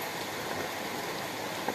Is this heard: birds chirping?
no